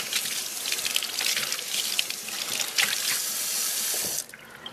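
Tap water running steadily into a sink as hands are washed with soap, a continuous close splashing hiss that cuts off near the end.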